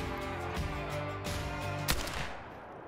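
Single rifle shot in the Call of the Wild hunting game, set on a northern German salt-marsh reserve, cracking once over a steady ambient background.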